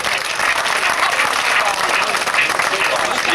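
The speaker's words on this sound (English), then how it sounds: "You can clap a bit louder than that, they come a long way to be here today." A crowd applauds at a 1991 grasstrack race prize-giving for the 500cc sidecar class, steady outdoor clapping that holds at an even level throughout with no clear speech over it.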